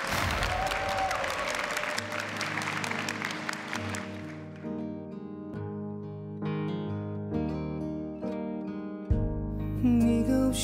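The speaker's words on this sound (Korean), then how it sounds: "박수로 한번 부탁드리겠습니다" An audience at a military unit singing contest applauds loudly for about four seconds before a song starts; the clapping fades as an instrumental backing track begins.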